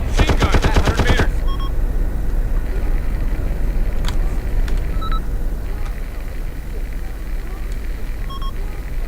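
Sustained loud battlefield din from the Cold War-era military game ArmA: Cold War Rearmed, opening with a rapid burst of machine gun fire, then continuous rumbling vehicle noise with a few short electronic beeps.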